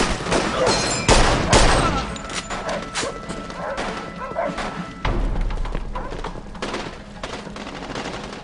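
Machine gun fire in the Mafia II PC game rattles in repeated loud bursts with scattered single gunshots and thuds, the shots packed close in a chaotic battle.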